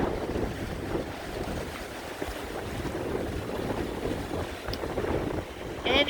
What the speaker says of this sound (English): It's a huge windstorm.